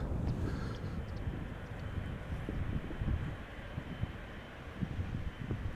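A KLM Boeing 777-300 in SkyTeam livery departs Amsterdam Schiphol bound for Sao Paulo, a faint, low, rumbling engine drone with gusty wind buffeting the microphone.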